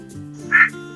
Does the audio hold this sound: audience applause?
no